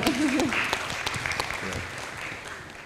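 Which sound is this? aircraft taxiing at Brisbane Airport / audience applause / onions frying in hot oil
audience applause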